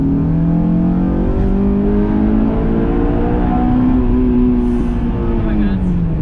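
A Honda S2000 accelerates hard toward VTEC inside a tunnel, its engine note climbing steadily in pitch as revs rise, loud and close, with a brief dip near the end as it shifts.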